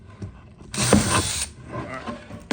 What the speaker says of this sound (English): I always flip it over and put the drill bit back through this side